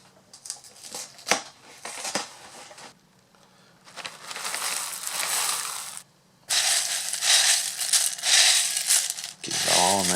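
Dry cereal, including Fruity Pebbles, is shaken and stirred in a container, giving bursts of loud rustling, crunching rattle separated by quiet gaps, close up with no talk.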